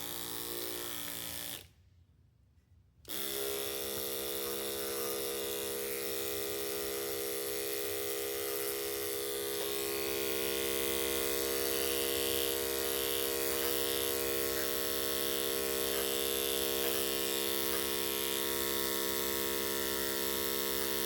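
Electric hair clipper cutting hair, a steady close buzzing hum that drops out briefly near the start, then runs on continuously and grows slightly louder and rougher as the blade works through the hair.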